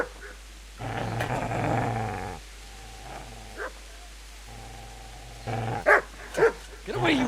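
A dog growls and barks in the video game Kingdom Come Deliverance, with a long growl early on and then sharp barks near the end, close and fairly loud, with a voice speaking in between.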